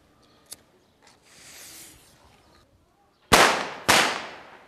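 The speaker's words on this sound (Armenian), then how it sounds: "Ինչպես լսեցինք, պայթյունի ձայնը իրոք բարձր է" A firecracker is set off for a loudness test, with a faint fizzing fuse and small pops first, then two sharp, loud bangs in quick succession, each trailing off in a short echo.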